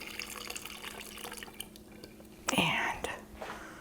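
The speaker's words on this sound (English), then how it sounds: "Just going to carefully pour it right through the strainer." Apple cider poured through a strainer, a short burst of liquid splashing and trickling near the end, after quiet murmured speech.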